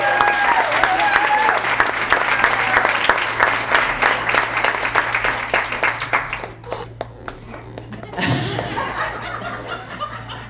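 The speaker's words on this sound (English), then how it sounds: "Can I get a round of applause for Jackie Herstad" An audience at a business women's network meeting applauds with steady, dense clapping and scattered chuckles and laughter, and the applause tapers off partway through before some voices and a few last claps.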